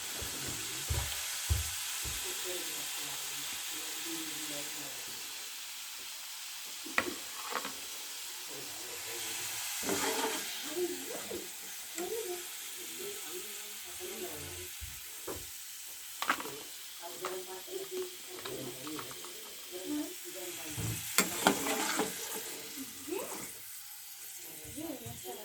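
Potato fries sizzle in a pan over a gas flame with a soft, steady hiss. Scraping and clinking from stirring and lifting break in at intervals, and a voice speaks at times.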